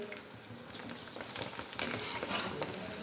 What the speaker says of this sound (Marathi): हे बघा दुसरा लॉट पण घालून घेतलाय, मस्त अशी तळली जातात.